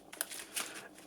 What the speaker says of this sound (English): So after another decent shuffle,